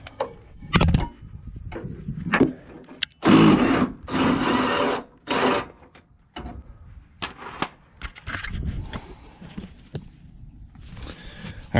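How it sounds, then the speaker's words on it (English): A 3/8-inch impact wrench loosens a cab mount bolt on the chassis of a 2005 GMC Sierra 2500HD, giving several loud, close bursts of hammering whir with short pauses between them, then lighter clanks of handling. "So we've got our 3/8 impact tied in, and I've already undone the bolts down there. So all I gotta do is let this loose"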